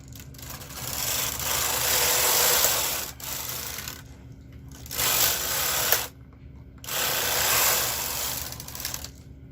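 Knitting machine knitting rows of a V-neck cardigan, its carriage rasping loudly across the bed in three sustained passes separated by brief near-silent pauses, close up with no talking.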